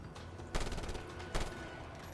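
Machine gun fire in a video game, with two short bursts of rapid shots standing out over a steady background of game noise.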